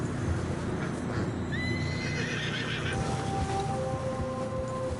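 A video-game horse trudging through deep fresh snow whinnies twice in long rising-then-falling calls, with muffled hoof steps and a steady low ambient bed underneath, no talk.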